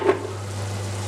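Spices frying in a pan for chicken tikka, a brief close burst of sizzling and crackling that settles into a soft, steady hiss.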